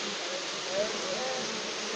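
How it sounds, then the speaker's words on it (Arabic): Honeybees fanning their wings at the entrance of a hive, a dense continuous buzzing drone, steady and close with a few brief higher tones rising above the hum. "انظروا معي، النحل هنا يرفرف بأجنحته لكن بطنه يكون مائل إلى الأسفل قليلا"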